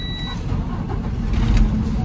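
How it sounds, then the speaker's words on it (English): A manual Class A truck's engine turns over and settles into a loud, low diesel rumble heard from inside the cab, steady and close, growing slightly stronger toward the end. "you wanted to make sure that you check your engine, right? And you're gonna turn it on."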